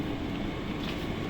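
A German train rumbles steadily throughout, a continuous close low roar of rail travel with no talk over it.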